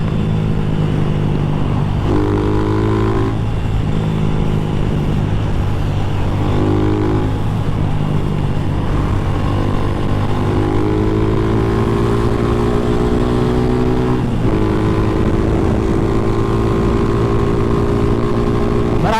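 A Rusi Classic 250 motorcycle cruising on a Philippine highway, its engine droning steadily and loudly throughout, with rising pitch sweeps as it accelerates and shifts gears, plus constant wind rush.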